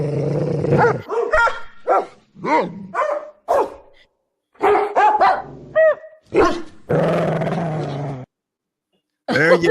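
Dogs barking and yowling a birthday song, with sharp barks and rising howl-like tones in short bursts, close and loud, with brief pauses between them.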